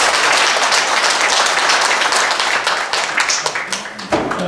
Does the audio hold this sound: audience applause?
yes